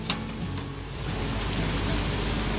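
Heavy rain during a sudden night storm with thunder and lightning in Vrindavan, a dense, steady hiss of downpour that swells slightly, with a brief crack near the start.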